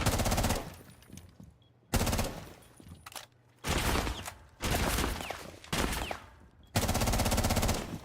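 Automatic gunfire in a Rainbow Six Siege match: loud, rapid bursts of shots repeat in about six clusters, with short, quieter gaps between them.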